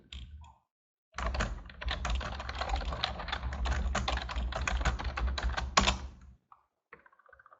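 Rapid typing on a computer keyboard, a steady close run of key clicks lasting about five seconds, with brief quiet before and after.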